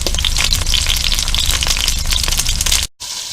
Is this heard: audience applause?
no